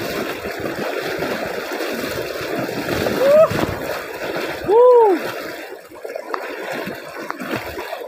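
Water rushes steadily around someone wading a rural stream while catching shrimp, with louder splashes midway and faint voices over the flow.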